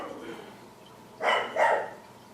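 Blossom the dog gives two quick, moderately loud barks in a row, set against a quiet indoor background with faint voice before them.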